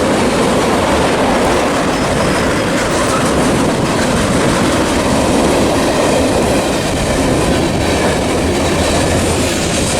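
An empty eastbound ethanol freight train rumbles past at close range, a loud, steady roar of wheels and rattling cars that fills the whole stretch without letup.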